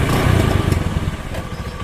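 A Honda Beat carbureted motorcycle engine, freshly repaired after sputtering and stalling, runs close by with a steady, buzzing, slightly uneven putter and no talking.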